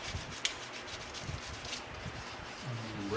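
Rubbing finish into walnut wood by hand, a soft continuous scrubbing friction close up with faint dull knocks, steady and moderately quiet with no talking.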